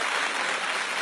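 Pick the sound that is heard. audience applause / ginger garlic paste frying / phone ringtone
audience applause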